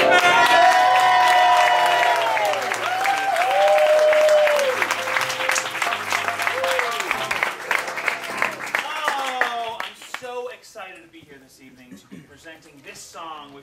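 Audience applauding and cheering for New York improv legend Rob Schiffmann, loud sustained clapping with whoops and shouts that thins out around ten seconds into scattered claps as voices carry on.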